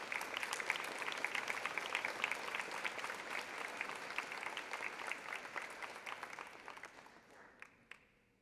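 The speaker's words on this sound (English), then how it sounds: "We applaud you for your academic accomplishments." A large crowd at a Valders High School graduation ceremony applauds the graduates, a dense, steady wash of clapping that holds strong and then thins and fades out near the end.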